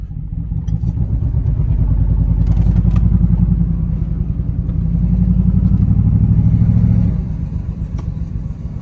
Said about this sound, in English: My truck sounds horrible.